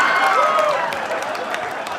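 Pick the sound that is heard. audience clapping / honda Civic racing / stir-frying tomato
audience clapping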